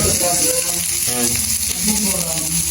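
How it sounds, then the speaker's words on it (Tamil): Onions sizzling and frying in a pan for an onion curry, a steady close crackle throughout with faint voices murmuring underneath. "இப்போ நாங்கள் வெங்காய கறிக்கு வெங்காயமும் போட்டாச்சு"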